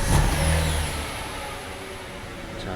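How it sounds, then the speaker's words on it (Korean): A Hyundai Grandeur IG with a 3.0 six-cylinder engine starts and settles into a smooth, steady idle, with a brief louder rumble at the start before it calms to an even hum. "엔진 소리 굉장히 일정하고 정숙한 엔진 소리입니다"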